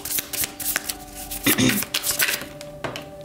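Tarot cards being shuffled by hand, a run of quick riffling flutters and soft slaps in bursts, close and fairly loud, with a person talking over parts of it.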